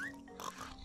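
A brief, faint pig oink from the video game Yooka-Laylee, a single short grunt over a soft ambient background.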